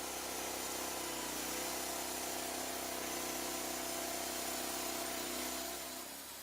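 Lumber Pro sawmill engine throttling up to a steady, loud mechanical drone with a constant pitch, running alone without talk and easing off at the very end.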